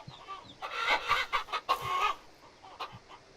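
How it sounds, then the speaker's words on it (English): Chickens cluck in a close, busy flock on a ranch in the video game Ranch Simulator, with a burst of overlapping squawks and clucks and a few softer calls trailing off afterward. "I'm getting sick and tired of having too many chickens now."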